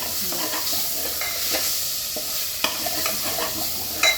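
Bottle gourd (ghia) with coriander is stirred and roasted in a pan, giving a close, fairly loud sizzle broken by repeated scraping stirs and a few clinks.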